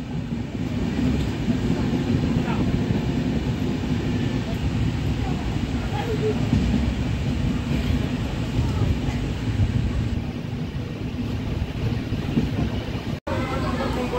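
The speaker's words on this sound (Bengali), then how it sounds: "ট্রেন বর্ধমানে এসে গেল" A Howrah–Lalkuan express with LHB coaches rolls into Bardhaman station under cloudy skies, producing a continuous heavy rumble and rattle of rail cars, close and steady, with voices audible under the noise.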